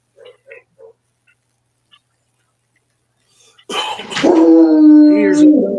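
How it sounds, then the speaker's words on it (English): A dog in Central Kentucky gives a few faint, distant yips, then lets out a loud, close, drawn-out howling bark. "Here's a dog barking."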